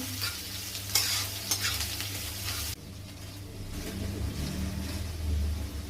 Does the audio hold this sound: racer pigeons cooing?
no